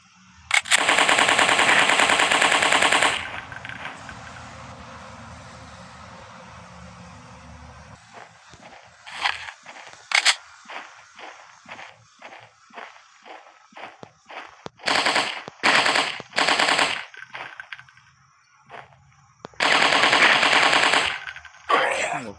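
Gunfire in a dinosaur-hunting simulator game on Android: long, loud rapid-fire bursts alternate with quick single shots and short volleys, separated by brief quiet gaps.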